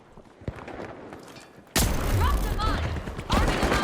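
Shotgun fire in the video game The Finals: a quiet stretch of game ambience, one sharp early crack, then a sudden loud blast that opens into dense, booming firefight noise with mechanical clatter for the rest of the moment.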